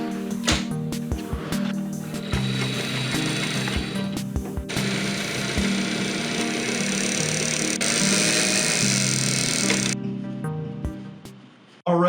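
Sewing machine stitching pants for a homemade costume, running in steady bursts of motorized whirring with short pauses between runs, close and fairly loud without talk.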